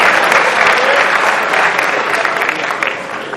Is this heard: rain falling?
no